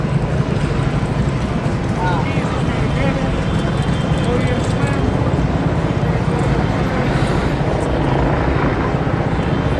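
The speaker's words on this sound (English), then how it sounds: "that helicopter is lighting up that whole sidewalk" A helicopter's rapid rotor chop pounds steadily overhead, loud and continuous, lighting a sidewalk during street unrest in Los Angeles, while people talk beneath the din.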